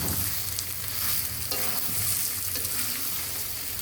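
Spices and potatoes frying in a pan for a Bogura-style potato breakfast dish, with a dense, steady close sizzle and a few light stirring clicks and no voices.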